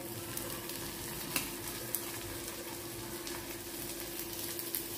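Chopped onions with ginger, garlic and green chili fry in hot oil, giving a steady soft sizzle with a few brief clinks of stirring, fairly quiet and without talk.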